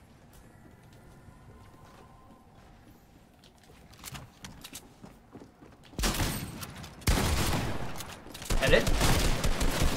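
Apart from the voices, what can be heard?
gunfire in the video game Fortnite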